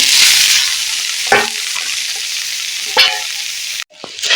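Grated coconut fries in hot oil in a wok, a steady close sizzle with a few louder stirring bursts, then a brief cut near the end.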